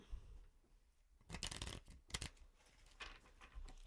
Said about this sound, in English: all of a sudden, my shuffling has gone to, rubbish